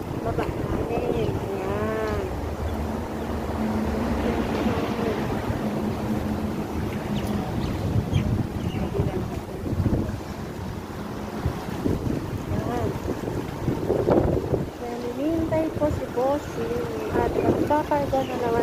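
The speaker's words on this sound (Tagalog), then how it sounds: "Ayan, mahangin ngayon dito." Wind blows outdoors at the Pacific Hotel in Tsim Sha Tsui, Hong Kong, a constant rushing roar on the microphone, with low horn-like tones and distant city noise mixed in throughout.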